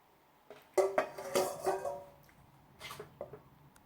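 A spatula stirs wet and dry almond muffin ingredients together in a bowl, making a few close, soft clinks and scrapes in short bursts with pauses between them.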